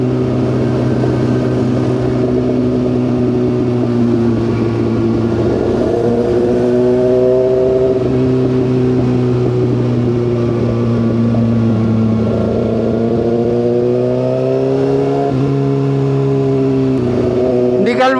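A motorcycle with a loud muffler drones steadily close by, its pitch rising and falling with gentle revs, while someone talks over it the whole time.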